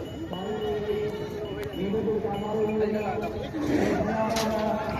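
Goats bleating at a livestock fair, several loud overlapping bleats close by, repeated over crowd chatter and someone talking.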